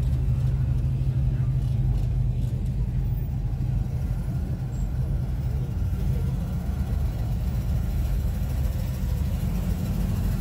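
A truck engine idles and rolls in at an outdoor car show, a steady low rumble running throughout with people talking nearby.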